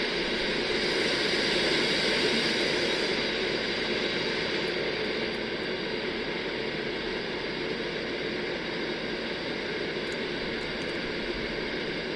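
Concorde jet engines idling during taxi before takeoff in a flight simulator, a steady broadband roar with a constant hiss that holds evenly throughout, no talk over it.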